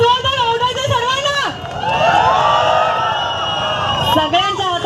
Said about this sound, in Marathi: एकदा जोरदार ओरडायचे सर्वांना.